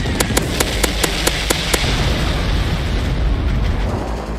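Bombs exploding in a combat setting: a steady deep rumbling roar of blasts with a series of sharp regular cracks over the first couple of seconds, loud and continuous, no voices.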